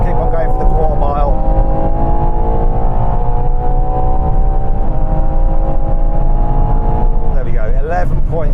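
A 725hp Ferrari Purosangue SUV pulls hard through a quarter-mile run, its loud engine note rising and holding steady through the gears, with a brief spoken remark in the middle and near the end over the roar.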